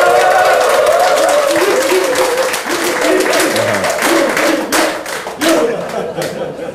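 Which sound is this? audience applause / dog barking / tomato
audience applause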